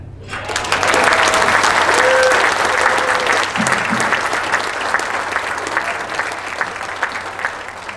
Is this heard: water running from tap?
no